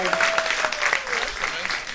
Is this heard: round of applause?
yes